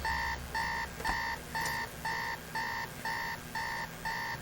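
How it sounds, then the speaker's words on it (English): An alarm clock rings in a steady pulsing pattern of bright beeps, about two bursts per second, loud and alone in a scene from the 2004 science fiction film I, Robot. "And then his alarm goes off."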